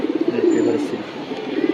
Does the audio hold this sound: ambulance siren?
no